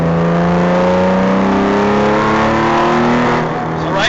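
A hand-built Porsche R43 flat-six engine revs up under acceleration inside the car, a loud, rising harmonic drone climbing steadily in pitch before easing off near the end, with no talking.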